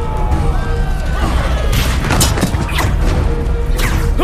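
Cannons fire in a 2014 Indonesian animated fantasy film, giving a loud cluster of heavy booms and crashing blasts that roll one after another over a dense, busy background.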